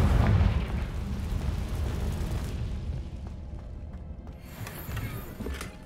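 The Confringo explosive spell in Hogwarts Legacy opens with a booming blast. A rumbling, crackling tail follows and fades, then a few faint knocks come toward the end.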